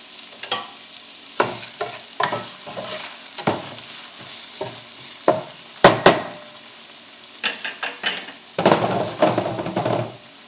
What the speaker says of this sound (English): we are just going to saute these onions until they become translucent